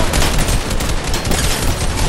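Rapid gunfire in a multiplayer shooter game against bots, a loud, dense burst of shots close up that fills the clip with barely a break between them.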